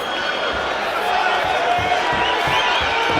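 Arena crowd at a Road to Abu Dhabi MMA fight between Yankovskiy and Ott: a steady, loud roar of murmuring and reacting spectators, with commentary voices running over it.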